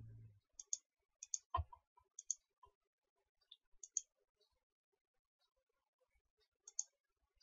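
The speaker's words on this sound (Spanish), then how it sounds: "doble clic" Quiet computer mouse clicks come in quick pairs, sharp and close, scattered across several seconds with a brief soft voice at the start.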